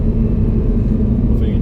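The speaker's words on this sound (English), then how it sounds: "hopefully you can hear a little taste of the motor now" The V10 engine of an Audi R8 idles with a loud, steady, deep rumble that holds even throughout, with a voice over it.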